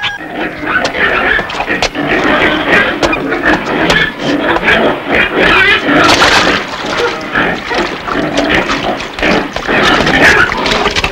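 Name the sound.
pig sounds in a comedy film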